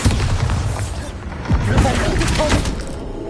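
A Bombarda spell exploding in Hogwarts Legacy, a booming blast with thumping impacts amid ongoing game noise, fairly loud, with a voice speaking over it.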